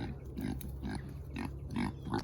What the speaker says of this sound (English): The pigs are going crazy.